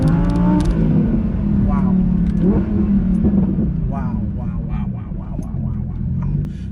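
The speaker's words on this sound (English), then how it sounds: "with the sport exhaust that comes on the R8 V10 PLUS. I think I have an idea as to where we're going with it now. Let's give it another rev." An Audi R8 V10 Plus with sport exhaust revs at close range, a loud, sustained engine roar that swells and holds, while people talk over it and one voice gives a short exclamation.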